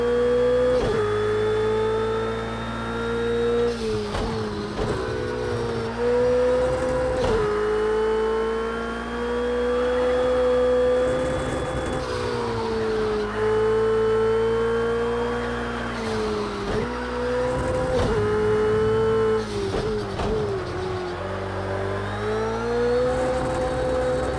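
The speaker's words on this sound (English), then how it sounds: "Gotta get used to this Ferrari again, man." Ferrari engine in a racing video game, a loud sustained drone that rises in pitch through each gear and drops sharply at the shifts, repeating the climb-and-shift cycle several times.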